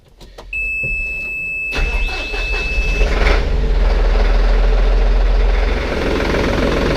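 A Massey Ferguson 4700 tractor engine starts with a brief chime, then settles into a steady, loud, low idle close by.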